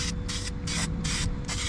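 High-temp primer hisses from a spray can in five or six short, even bursts with brief gaps, close and steady over a faint background hum.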